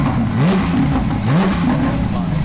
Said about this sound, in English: All right, let's rev it.